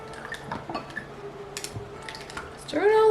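Kidney beans being stirred in a pot before pressure canning, with light clinks and scrapes of a utensil against the pot in an irregular rhythm, close by, ending in a louder shift of sound.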